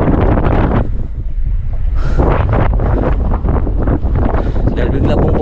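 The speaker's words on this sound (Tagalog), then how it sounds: "Dahil bigla pong pumihit po yung hangin." Strong, steady wind at sea aboard a small boat roars across the microphone in a continuous low rumble, with a voice speaking over it throughout.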